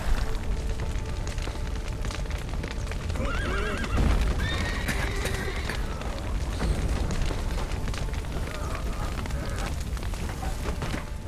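Horses neigh and whinny repeatedly in The Witcher 3, with hooves clopping amid roaring fire and crackling debris, loud and busy throughout.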